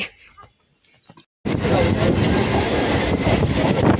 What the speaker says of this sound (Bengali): এই যে আমরা ট্রেনে উঠে পড়েছি